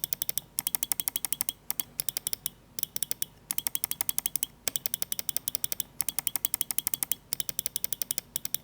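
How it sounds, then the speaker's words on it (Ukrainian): A Logitech G Pro 2 Lightspeed wireless gaming mouse clicks repeatedly, crisp sharp taps arriving in quick rhythmic bursts with short pauses between groups, close and clear with no voices. "клік тут просто шикарний"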